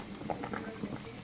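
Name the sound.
pot of boiling water for lasagna noodles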